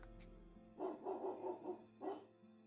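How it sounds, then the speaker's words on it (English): A dog barks repeatedly in a video game, a run of four quick muffled yaps followed by one more after a pause, faint and distant and heard alone. "From a distance, he faintly hears the sounds of Colby's relentless barking as it is further away from the house."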